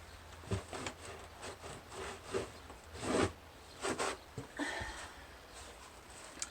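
Zippers and small sewing notions are handled and rubbed, giving soft scraping, rustling and short zip-like strokes in an irregular rhythm, faint and close.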